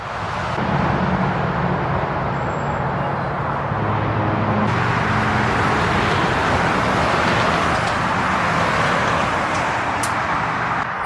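Busy highway traffic right beside a turnpike, a continuous loud roar of cars rushing past with a truck going by, heard close and unbroken throughout.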